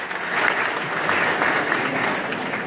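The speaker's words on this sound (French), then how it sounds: "Et donc des applaudissements encore pour lui." Dense, even applause from an audience at a university rector's speech in Bambey, continuous clapping throughout with no talk over it.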